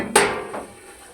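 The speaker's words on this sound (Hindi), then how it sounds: "अब हम हटा रहे हैं ढकना।" A metal lid lifted off a pot of steamed Kabuli pulao rice gives a single sharp clink, then a fainter second knock, close and isolated in a quiet kitchen.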